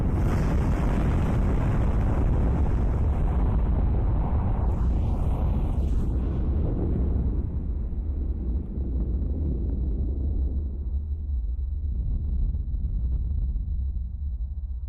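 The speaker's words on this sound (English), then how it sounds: "That was a good explosion." Nuke explosion in a nuke simulator video game: a massive, loud rumbling blast with a roaring burst that gradually decays into a long, low, windy rumble.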